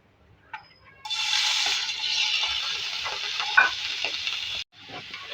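Chicken drops into hot oil in a pan and bursts into a loud, close, steady sizzle that lasts several seconds, with a brief clink of a utensil, then cuts off sharply and resumes more quietly.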